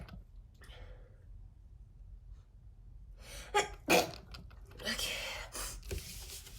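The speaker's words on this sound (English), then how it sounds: "I need to sneeze, so that's confirmation." A single sharp sneeze bursts out close to the microphone, followed by breathy sniffs and rustling.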